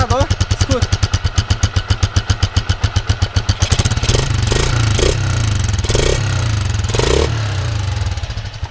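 A motorcycle with a washer fitted in its exhaust runs close by. It sputters in rapid, loud pulses at idle, then revs repeatedly in sharp bursts, with people talking over it.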